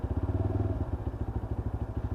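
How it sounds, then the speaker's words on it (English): A Lexmoto LXR 125cc water-cooled motorcycle engine grumbles at low revs with a steady, deep pulsing beat, close and alone, while the bike waits at traffic lights before pulling out. "a lovely deep grumble from that LXR engine"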